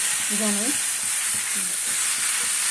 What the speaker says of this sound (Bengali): এইবারে লাউয়ের ডাটাগুলো দিয়ে দিলাম